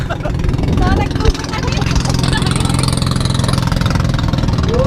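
A Suzuki Raider 150 FI motorcycle engine idles with a steady low throb under loud nearby talking outdoors, one sharp knock partway through.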